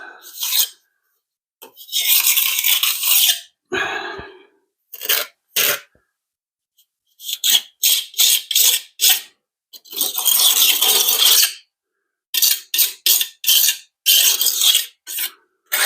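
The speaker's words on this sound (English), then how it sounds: "You know, you can match the patterning with your trowel." A trowel scrapes and rasps across soft brick mortar on a Victorian chimney breast, roughening it to a rustic handmade-brick texture in repeated bursts of strokes, some long and some short and choppy, close and loud with no talk.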